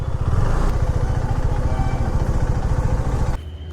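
A motorcycle engine runs steadily and loudly up close with a low, even throb, then cuts off abruptly near the end.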